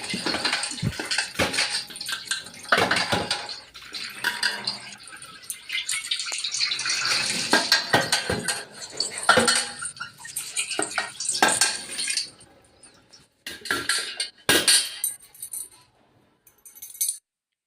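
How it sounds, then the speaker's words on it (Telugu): Running water with clattering pots, dishes and cutlery being scrubbed and rinsed, irregular clinks and splashes, ending in quieter scattered clanks. "ముందుగా అయితే గిన్నెల్ని వాష్ చేసుకొని పెట్టేసుకున్నాను"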